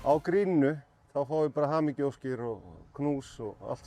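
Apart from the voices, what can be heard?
None of the usual background noises is heard.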